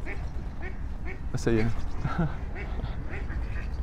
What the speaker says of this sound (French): C'est les canards qui me disent arrête de dire des conneries.